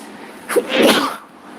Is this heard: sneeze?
yes